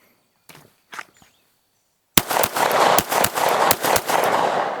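Rapid string of loud, sharp pistol shots from a CZ Shadow 2 at a shooting range, close and evenly spaced, following a couple of faint handling clicks and a short silence.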